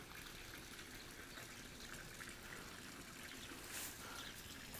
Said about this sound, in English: Little waterfall feature.